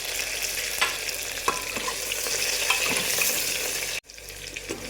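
Onion, tomato and curry leaves hitting about three spoons of hot oil sizzle loudly and steadily, with a few stirring scrapes, before the sound cuts out abruptly near the end and resumes more quietly.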